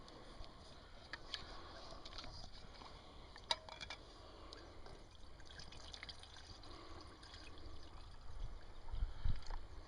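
Water is poured into a tea kettle beside a small outdoor wood stove, a faint, quiet trickle and splash under light ambient background noise.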